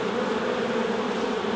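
Honey bees buzz on a hive frame, a dense, steady drone from many insects close by, with no voices over it.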